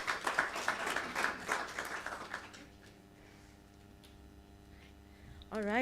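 A forum audience claps for the first half, a dense patter of applause that fades out, followed by a quiet room and a voice beginning at the end.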